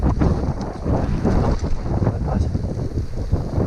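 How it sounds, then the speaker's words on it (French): Light wind buffets the microphone of a gravel bike riding along the Oise near L'Isle-Adam, a steady rumbling rush with no speech. "Superbe temps là ce matin, il y a un petit vent quand même"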